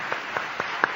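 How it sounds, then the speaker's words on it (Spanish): An audience applauding at a live radio broadcast event in Ponferrada, a dense, steady wash of clapping with a few sharper individual claps standing out. "por favor, un fuerte aplauso"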